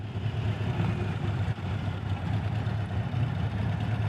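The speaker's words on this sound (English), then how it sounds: "There's a little rev bomb for you guys." Engine of a 2025 Harley-Davidson Road Glide ST CVO motorcycle revving during a ride, a steady loud low rumble with constant throttle drone throughout and no talking.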